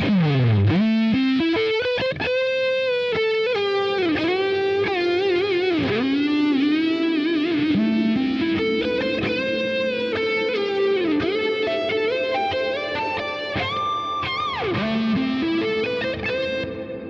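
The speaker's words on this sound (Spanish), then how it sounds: "vamos a checar el reverb." A distorted, gliding synth line played through the Vulture Culture Inktomi reverb plugin, loud and continuous, with shifting pitches and a smeared, washy sustain filling the background.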